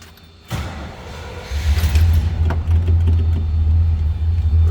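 A 1965 Chevrolet Chevelle Malibu convertible cold-starts with a brief crank, then catches into a deep, steady rumbling idle close by.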